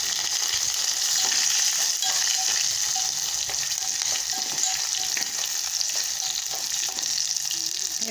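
Green chillies, curry leaves and coriander sizzle and crackle in hot oil for a tempering, a steady bright frying hiss with occasional stirring scrapes, close and unbroken.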